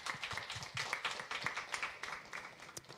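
Scattered clapping from a concert audience, fairly faint, with a handful of distinct claps over a low murmur for a few seconds.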